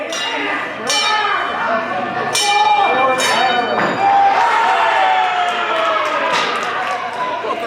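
Sharp metallic clangs of a hammer striking a wrestling ring bell ring out a few times over a noisy crowd and excited talking, each strike leaving a bright ringing tail.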